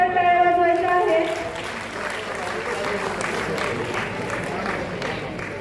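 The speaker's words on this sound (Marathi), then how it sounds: "सगळ्यांनी मॅडमसाठी जोरदार टाळ्या वाजवायच्या आहेत" Audience applause for the principal at a school's annual gathering, a steady wash of clapping from a crowd that follows a brief tone and runs on evenly, with a voice faintly audible beneath it.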